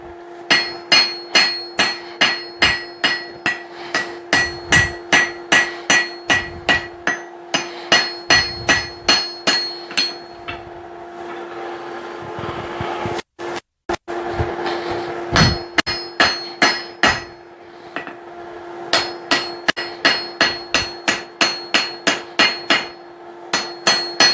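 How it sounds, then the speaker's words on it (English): Steady, rapid blows from a lighter hammer ring on hot metal while forging a hammer eye punch, a bright clang in quick bursts separated by short pauses, loud and close. "Alright, time for a lighter hammer."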